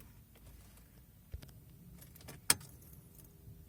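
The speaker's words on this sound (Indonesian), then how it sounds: "Tinggal masukin ke lubang kuncinya, ada di sini." Faint keys jangle quietly, with a couple of small clicks and a sharp metallic tap as a key slides into the ignition of a 2011 Peugeot 207 1.4 SX.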